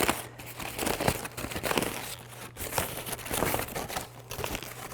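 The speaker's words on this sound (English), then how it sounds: "Crumple it into a ball like so" Gold foil paper crumpled into a ball by hand and opened out, giving steady crinkling and crackling throughout, fairly close and moderately loud, with a low hum underneath.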